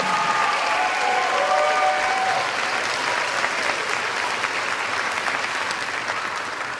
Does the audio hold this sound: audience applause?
yes